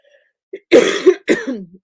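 A woman coughs twice in quick succession, close and loud, each a short harsh burst with a faint throat sound just before.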